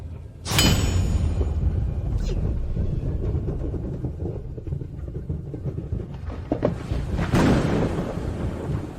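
Thunder rolls and rumbles continuously in a deep, heavy wash, with sharp cracks near the start and again toward the end, loud and close, in a fantasy scene about a blacksmith forging a weapon.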